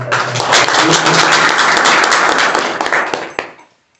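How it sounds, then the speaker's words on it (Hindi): An audience at a college farewell and welcome ceremony held by a Sanskrit department claps loudly for the chief guest, a dense, steady burst of applause that fades out abruptly near the end. "परमादरणीय अतिथि के लिए एक बार जोरदार ताली से"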